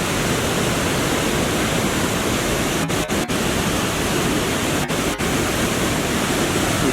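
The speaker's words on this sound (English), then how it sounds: "view this body of water roaring down these rocks" Water roars steadily down the rocks of a man-made waterfall on a city walk in Landsberg am Lech, Bavaria, a loud, close, continuous broadband rush that never lets up, with no voices.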